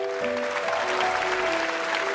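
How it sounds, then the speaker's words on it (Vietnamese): An audience applauds a guest on stage at a Vietnamese entertainment show. The clapping is brief and steady, with a held musical tone ringing underneath. "Mọi người cho chị Xuân một tràng vỗ tay nữa được không ạ?"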